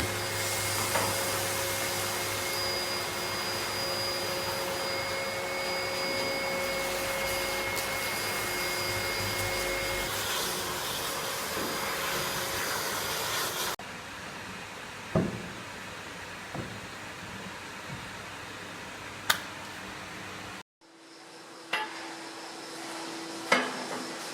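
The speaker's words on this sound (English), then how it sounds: "It's resounded to the sound of hoovers, brushes and dustpans" A vacuum cleaner whines loudly and steadily in a barn during cleaning, then shuts off partway through, leaving quieter room noise with scattered knocks and clatters.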